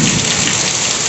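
Heavy rain pours with strong gusting wind during a darkening thunderstorm, a loud, dense and continuous hiss of water hitting surfaces with no voices.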